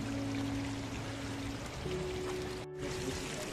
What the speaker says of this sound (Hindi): सो गाइस देखो ये पानी पहाड़ से आ रहा है